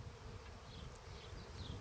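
A honeybee swarm gathered in a tree gives off a dense, continuous buzzing drone. It is steady and fairly close, with no voices heard.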